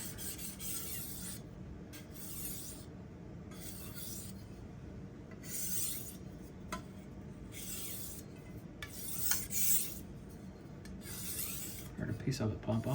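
A chef's knife is drawn across a Naniwa whetstone in repeated wet rasping strokes, each stroke a hiss that swells and fades in a steady back-and-forth rhythm, close and moderately loud.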